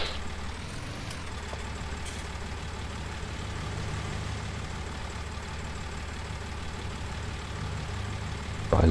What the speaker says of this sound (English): Nice day for driving an open top tractor.